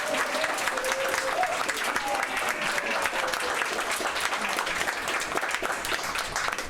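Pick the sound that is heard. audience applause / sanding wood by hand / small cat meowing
audience applause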